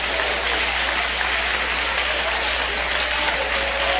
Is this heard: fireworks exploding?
no